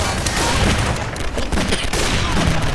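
Dense, continuous gunfire from Garry's Mod Flood fills the clip in a loud, overlapping rattle of rapid shots with no pauses.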